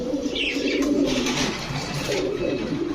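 Lahori pigeons coo steadily in a low, throaty murmur throughout, with faint chirps and some background rustle; no speech.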